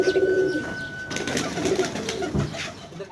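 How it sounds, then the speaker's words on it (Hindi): Birds at a zoo on the grounds of the Shree Rukmani Balaji temple in Balajipuram call close by. Soft, repeated cooing is joined by a few brief chirps over faint background noise. "चिड़ियाघर भी दिखाई दे रहा है, जहां सैकड़ों चिड़ियाओं की चहचहाहट आपको प्रकृति के करीब होने का अनुभव देती है"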